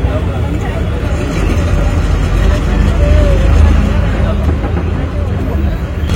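Town road traffic in Chikkaballapur, heard from inside a moving bus, is a dense low rumble of engines and passing vehicles. Voices murmur over the noise throughout.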